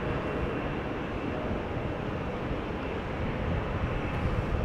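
An airliner on a relocation flight to Maastricht roars past at Amsterdam Schiphol Airport, a loud, steady, broadband jet rumble that holds for the whole span.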